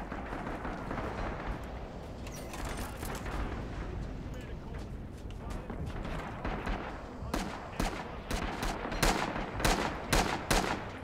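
Gunfire in the Red Orchestra 2 mod Heroes of the West, a World War II Battle of the Bulge fight, with scattered distant shots and rumbling artillery that grow into denser, sharper nearby cracks, while voices speak over it.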